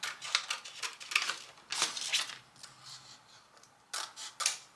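Scissors cut out rub-on transfers in a series of short, crisp snips and paper rustles at close range, irregularly spaced and fairly quiet.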